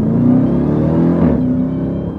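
Jeep Grand Cherokee Trackhawk engine revving loud and close, a steady deep throaty roar that climbs briefly and then eases slightly, heard alone without any talk.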